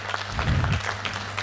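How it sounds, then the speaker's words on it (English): An audience at a club's annual general meeting claps for newly welcomed members, a short burst of close, dense applause that swells and then eases off. "We need to clap for them."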